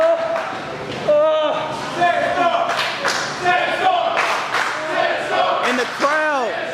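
A wrestling crowd cheers and bellows for Coyote Sandstorm during a bout against AC Mack, with loud roars and shouts swelling in waves and a commentator speaking over the noise throughout.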